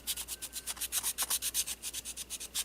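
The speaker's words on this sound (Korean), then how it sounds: "이렇게 사포를 다양하게" Sandpaper rubbing a miniature bowl by hand, a steady series of close, quiet rasping strokes in even rhythm, about a dozen back-and-forth passes with no talking.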